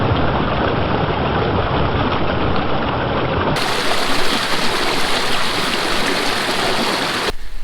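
A flowing stream at a trail water crossing in Red River Gorge, rushing steadily and loudly close by for the whole stretch, with a brighter hiss of water toward the end.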